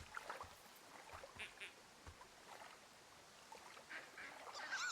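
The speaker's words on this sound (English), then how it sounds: "Seems like ducks." Ducks heard in the forest setting of the video game Firewatch, faint scattered quacks and honks over soft ambient noise, some closer bursts near the end, with no talking.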